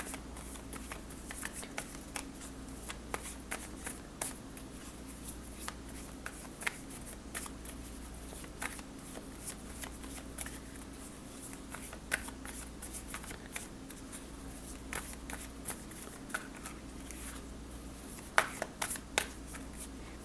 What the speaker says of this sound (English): I started shuffling like this a few months ago because it feels right.